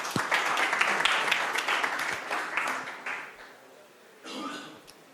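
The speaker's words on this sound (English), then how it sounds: "Let's give him a round of applause." An audience at a Lightning conference gives a conference speaker a burst of applause, with dense clapping that thins out, a pause, then a short final spatter of claps, and some murmuring voices underneath.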